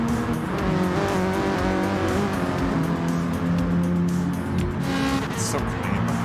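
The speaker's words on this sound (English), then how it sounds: "That's loud. Ooh, DJ Birdie's got a nice car too. What is that? Oh, it's a BMW" A BMW race car engine roaring in the GT Sport video game at the Bathurst circuit, a loud sustained multi-toned drone with shifting pitch, while people talk over it.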